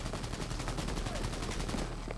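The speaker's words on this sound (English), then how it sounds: "They're just shooting." Gunfire from a gang war in Cyberpunk 2077, a dense rapid stream of shots at steady volume throughout, heard somewhat distant and muffled.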